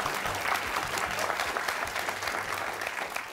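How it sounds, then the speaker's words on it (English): A high school quiz show audience applauds in a dense, continuous wash of clapping at a steady level for a few seconds, with no voices on top. "How about a nice round of applause, Lexington High School?"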